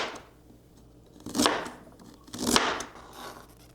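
A knife cuts through pieces of fermented ginger on a board with two crisp, crunching chops about a second apart, close and clear over quiet room background.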